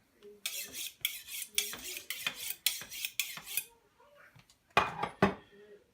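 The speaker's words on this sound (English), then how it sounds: "this is called a sharpening steel, and you always want to have a sharp knife when you cook meat or when you cut meat" Repeated metallic scraping strokes of a knife drawn along a sharpening steel while preparing meat for sausage, about a dozen quick rasping swipes in bursts, fairly close and clear, with a short pause before two final strokes.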